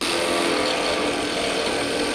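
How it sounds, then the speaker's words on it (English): A power drill runs continuously at high speed, boring holes for a beach cart build, a loud steady whine with a gritty buzz and no pauses. "now I'm gonna drill holes to match that"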